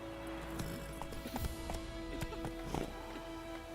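Roach, the horse in The Witcher video game, clip-clopping with distinct, irregular hoof strikes at close range over a steady background hum, each hoof impact sharp and percussive.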